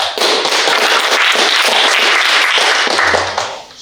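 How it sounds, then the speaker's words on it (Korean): Audience applause at a high school drama class performance, a dense, loud burst of many hands clapping together that holds steady for a few seconds before tapering off. "박수."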